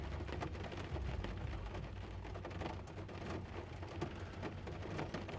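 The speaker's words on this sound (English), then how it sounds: "Now, the rain on the roof here." Steady rain drumming on a roof during a heavy Pacific storm in Vancouver, a dense continuous patter with no pauses and no voices, loud and close throughout.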